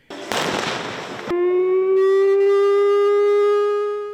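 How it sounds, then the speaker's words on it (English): Civil defense air raid drill in New Taipei City: a short burst of simulated explosion noise, then a loud wailing air raid siren that rises and holds a steady tone alone. "Explosions and air sirens went off in a Ming'an exercise in New Taipei City."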